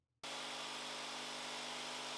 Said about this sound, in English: Cut that radius out with the jigsaw